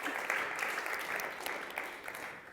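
Steady applause from a conference audience at the Danube Conference 2022, a dense, continuous patter of many hands clapping that fills the room without a break.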